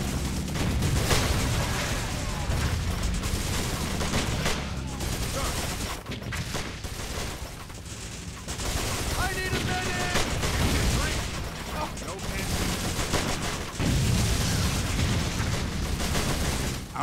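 Dense gunfire and booming explosions from a battle in the strategy game Blitzkrieg 3 roll on almost without pause, with machine-gun bursts and artillery blasts layered under occasional game voice radio lines.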